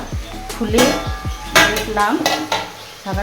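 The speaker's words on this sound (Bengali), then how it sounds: "নাড়াচাড়া করার পর থালাটা ঢেকে দিলাম।" Greens being stirred in a metal pan, with repeated scraping and clattering strokes and a clank of a lid or plate being set over it, close and fairly loud with faint sizzling beneath.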